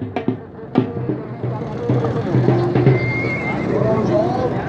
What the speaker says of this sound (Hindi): आला जी घोड़ा आ गया